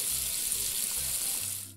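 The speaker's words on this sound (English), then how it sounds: "now all we need to do is rinse our hands with running water" Tap water runs steadily as hands are rinsed under it in a hand-washing animation, a continuous close hiss that cuts off at the end.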